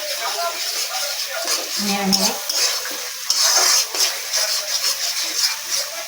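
A spoon scrapes and clinks against a pan while fish curry with tomato and salt is stirred, a soft sizzle running underneath and a voice talking over it.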